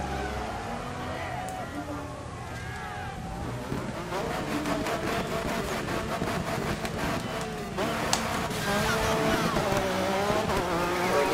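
Race cars in the rally video game Dirt 3 roar steadily with shifting engine pitch and occasional tire noise, a continuous loud drone throughout, with someone talking over it at times.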